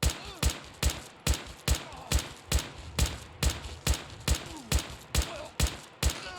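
Rifle fire in the video game Fallout 4, a steady series of about fifteen loud sharp shots spaced roughly half a second apart, each with a short decaying tail and no talk between them.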